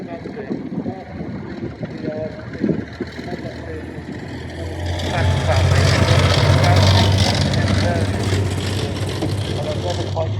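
A Sultan armoured command vehicle drives past at a wartime vehicle parade: a loud, rising engine and track rumble swells from about halfway through and holds steady, with wind buffeting the microphone and people talking throughout.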